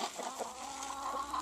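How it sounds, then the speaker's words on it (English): A rooster and hens in a chicken yard give soft, steady clucking and murmuring calls, moderately distant under a faint outdoor background, with no voices. "It's our rooster and our hens."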